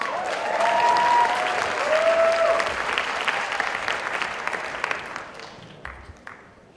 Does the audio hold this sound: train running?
no